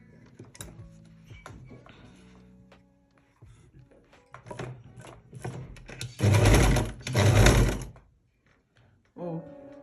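A sewing machine stitches a cargo pocket in two loud, sustained runs of fast mechanical whirring, close up, preceded by quieter handling clicks and fabric shuffling, with a short burst at the end.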